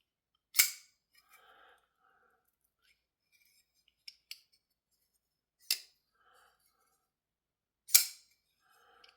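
A Forest Elf F-01 folding knife snaps open and shut three times, each action a sharp, bright metallic crack close to the ear, separated by faint clicks and handling rustles in near silence.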